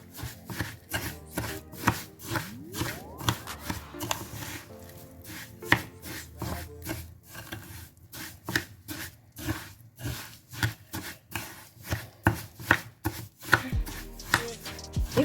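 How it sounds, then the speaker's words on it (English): Homemade sugar scrub being mixed with lemon in a bowl, a fast run of close gritty scraping and tapping strokes in an uneven rhythm, with no talk. "mixing those lemon inside. Going to mix it very well."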